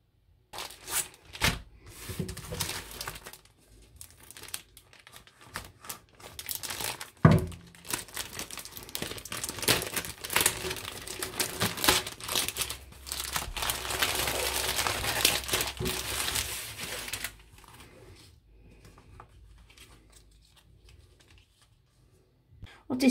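Plastic packaging of an embroidery kit crinkles and rustles as it is unwrapped, in close, irregular bursts of crackling that build and then thin out into scattered handling sounds.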